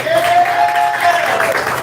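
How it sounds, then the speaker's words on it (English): Audience applause fills the room at the Miss Gay Elegance drag pageant, a dense, loud wash of clapping with some cheering, lasting just under two seconds. "A round of applause."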